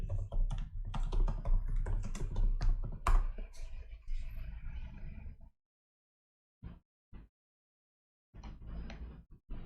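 Computer keyboard typing comes in dense, rapid clacking bursts, close and clear, then drops to silence before a few isolated key taps and a final short flurry of keystrokes.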